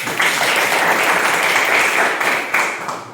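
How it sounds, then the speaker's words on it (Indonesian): A classroom of students claps for a classmate. The burst of applause is loud and dense and lasts about three seconds before it starts to thin out. "Kita kasih aplaus ke Yoga."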